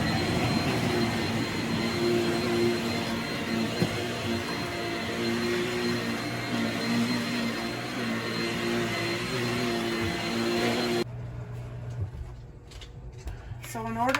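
A vacuum cleaner running steadily on carpet, a loud constant whining drone that cuts off abruptly, leaving a quieter room with light handling noises.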